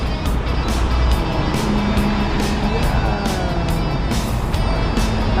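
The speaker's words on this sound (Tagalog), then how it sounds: "May mga kotse." Cars pass along a busy Mong Kok street in Hong Kong at night, a continuous close roar of engines and tyres with repeated passing swells and steady traffic noise, without clear talk.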